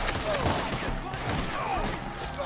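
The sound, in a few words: gunfire in a Red Dead Redemption 2 shootout (video game)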